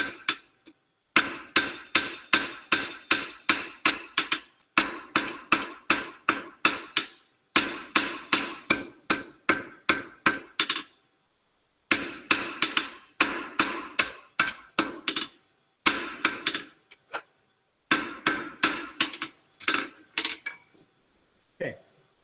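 Steel being hand-forged with a hammer, flattened back to thickness to shape a taper for an eye hook: rapid bursts of bright ringing anvil blows in quick rhythmic runs, separated by brief pauses.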